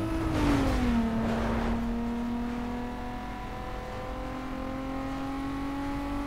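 A racing car engine in Need for Speed Most Wanted 2005 holds a steady high drone after a brief pitch dip, sustaining throttle with a continuous whine and no talk over it.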